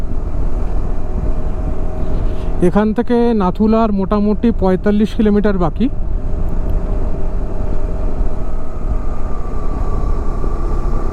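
A motorcycle rides a cloudy mountain road through East Sikkim toward Nathu La, with a continuous engine and wind rumble throughout; someone speaks briefly over it.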